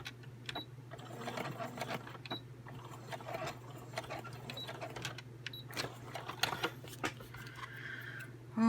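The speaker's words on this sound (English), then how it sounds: "when you sew on paper, I always find that the side that the bobbin's on isn't as nice" A sewing machine stitches through paper in short rattling bursts with pauses between runs, fairly close and moderately quiet, a faint low hum underneath.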